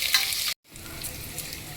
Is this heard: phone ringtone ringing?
no